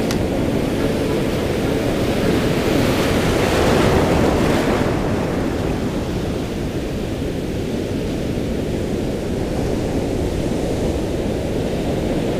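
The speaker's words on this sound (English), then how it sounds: "Too many waves just built up there, in my opinion." Ocean surf rolling and breaking on a beach where surf perch are fished, a steady loud wash of waves with some wind rumble, swelling a little around the fourth second, with no talking.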